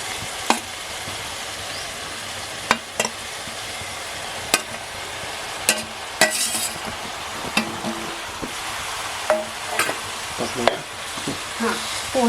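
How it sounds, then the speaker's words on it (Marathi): Soaked poha is stirred into the tempering in a pan over a village wood-fired stove, with a soft continuous sizzle and sharp scraping clanks of the spoon recurring every second or two. "आता छान असे फोडणीसोबत मिक्स करून घ्यायचे आहेत"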